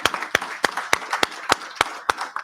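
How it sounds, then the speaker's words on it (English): Sparse, spaced claps from a small audience at a business event, sharp individual hand claps roughly every third of a second over a faint patter of scattered clapping. "I'd like to give a round of applause to the leadership from Zimbabwe today"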